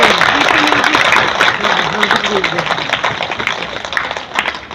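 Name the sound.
audience applause at women's day event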